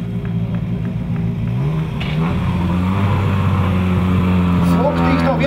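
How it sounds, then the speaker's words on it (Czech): Tuned R5 category rally cars at Rally Tatry 2017 roar close by, their loud engine drone climbing in pitch through revs and gear changes, with voices faintly in the background. "Zvuk týchto vyladených automobilov kategórii R5 je priam nákazlivý."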